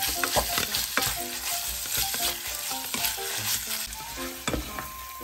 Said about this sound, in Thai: ผัดหมูให้สุกก่อน